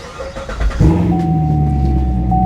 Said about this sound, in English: Starts up amazing, of course. It's a newer Corvette.